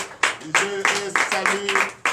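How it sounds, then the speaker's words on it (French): A congregation at a night deliverance church service in Comè, Benin, claps in a quick, steady rhythm, about seven sharp near claps over a sustained tonal voice or instrument underneath. "je vous demande d'applaudir notre sœur Flore au nom puissant de Jésus"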